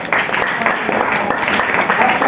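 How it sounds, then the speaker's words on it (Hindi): Congregation applause during a Sunday church sermon, clapping for a woman who answered: a moderately loud burst of clapping and crowd noise that starts abruptly and carries on, with voices mixed in. "ताली बजाएंगे बहन को"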